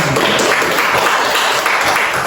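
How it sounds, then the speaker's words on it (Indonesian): Primary school pupils clap in a classroom, a loud, close, steady burst of applause that carries on without a break. "Ya, tepuk tangan."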